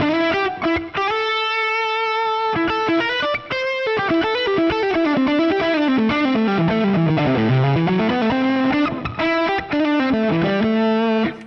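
Electric guitar played through a Fractal modeler's Fuchs Dumble-style amp model, with a warm, lightly overdriven tone. A continuous melodic lead line with sliding phrases and sustained notes plays alone, with no voices.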